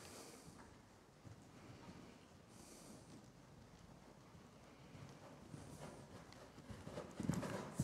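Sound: horse cantering in riding lesson

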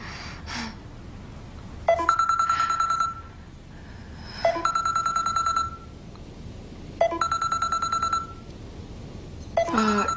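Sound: telephone ringing, not answered

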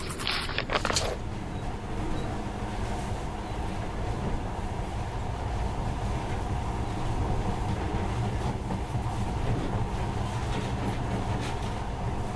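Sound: monorail train running in video game Metro Last Light Redux

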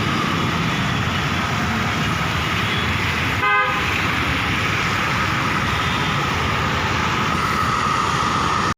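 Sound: train arriving with horn

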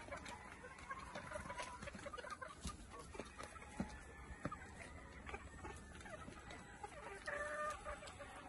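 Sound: rooster clucking and crowing

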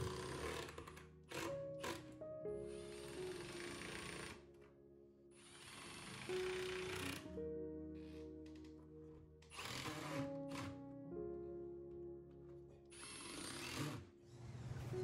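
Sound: drill driving screws through pocket holes into cabinet

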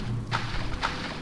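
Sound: footsteps walking alone in the video game Silent Hill 2

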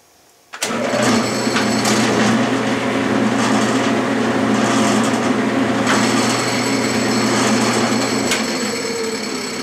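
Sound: metal lathe running in direct drive after pull gear reassembly

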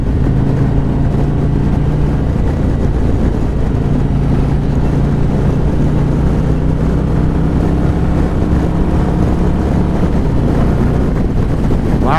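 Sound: 2024 Harley-Davidson motorcycle accelerating on a ride

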